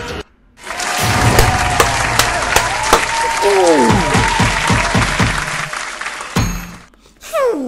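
Loud sustained applause plays in the Dark Deception horror video game, a steady clatter of many hands lasting several seconds, with voices talking over it.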